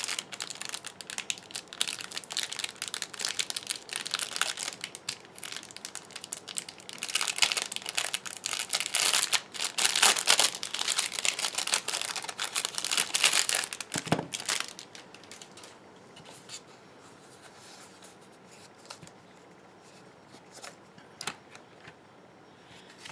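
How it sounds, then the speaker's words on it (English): Paper wrapping is peeled and crinkled off a block of soap base, giving about fifteen seconds of loud, close rustling and crackling, then a few quieter scattered crinkles. "Let me take the paper off."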